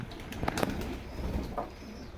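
A purebred Teddy pigeon coos softly nearby in a few short, low calls, with faint rustling around it.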